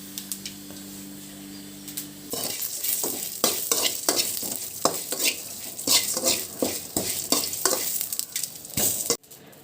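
Green chilies frying in a pan in a village kitchen, a steady sizzle broken by repeated clinks and scrapes of a spoon stirring against the metal, after a brief quiet moment at the start.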